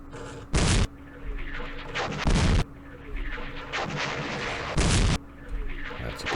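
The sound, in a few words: tanks firing in video game Campaign Series West Front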